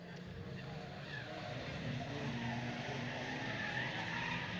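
Race cars at Bovingdon Raceway's caravan race, with a red Vauxhall on the pits bend, roar in a steady, dense engine drone with faint tire noise, moderately distant, and a voice talking over it.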